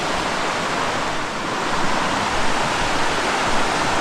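Creek water rushing past a campsite in a mountain forest, a steady, loud, broadband wash that stays even throughout with no voices.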